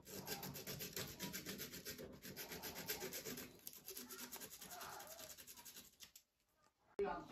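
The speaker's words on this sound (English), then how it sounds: "emery cloth was taking too long" Emery cloth rubs back and forth on a Finecast Taff Vale 0-6-2T model locomotive part in quick, steady strokes, a faint rasping scrape that runs continuously before stopping near the end.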